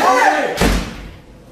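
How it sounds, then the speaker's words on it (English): A door slams shut with one sharp, loud thud midway, after a voice and a creaking sweep, then fades quickly into quiet. "Close the door."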